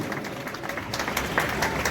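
An audience applauds to honour a family at an Independence Day celebration at Dharmanandan Diamond in Surat: dense, steady clapping from many hands that fills the whole moment at an even loudness.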